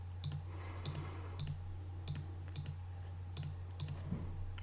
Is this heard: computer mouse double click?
yes